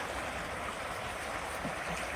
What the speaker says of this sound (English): the water is lapping at some of the lower limbs of the trees